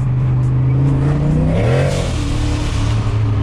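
A turbocharged Ford Foxbody car accelerates hard, loud and close, its engine note rising steadily through the rev range with a climbing turbo spool whine riding over the exhaust roar.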